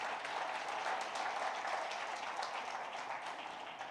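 A church congregation applauds during a Sunday celebration service in a steady, continuous wash of clapping that stays even throughout, with no voices standing out.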